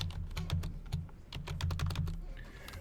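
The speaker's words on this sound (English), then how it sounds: "I'm just going to start typing." Close, rapid clicks of a computer keyboard as someone types in quick bursts, with brief pauses between runs of keystrokes.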